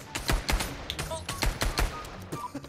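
Rapid bursts of gunfire from a VR shooter game, several loud close shots in quick uneven succession with a voice briefly in between.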